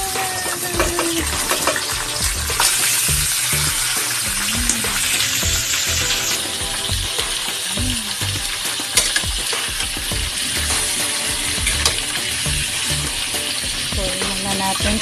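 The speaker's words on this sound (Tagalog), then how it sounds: "Gigisa muna natin." Garlic sautéing in a pan, with steady broadband frying sizzle throughout and intermittent scraping and stirring clatter, close by, with brief vocal sounds at moments.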